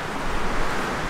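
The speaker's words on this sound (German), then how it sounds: "aber es ist einfach zu windig" Strong wind roars across a sandy beach on the Turkish coast, with surf washing beneath it in a loud, steady, dense rush.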